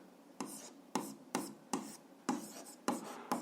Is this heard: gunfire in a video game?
no